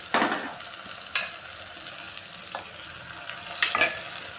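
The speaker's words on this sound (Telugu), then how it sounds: "మునక్కాయ పీసెస్ ఒక 5 మినిట్స్ ఇలా ఆయిల్లో ఫ్రై చేసుకోవాలి" Drumstick (moringa) pieces fry in oil in a pressure cooker for a tomato curry, giving a quiet bed of sizzle broken by a few sharp crackling bursts near the start, middle and end, with no voices.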